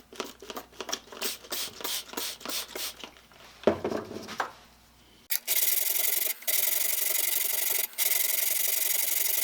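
A Stanley #151 spokeshave blade is rubbed back and forth on a 180 grit diamond plate, giving a run of rhythmic, close abrasive strokes that settles into a steady, loud gritty scrape broken by brief pauses.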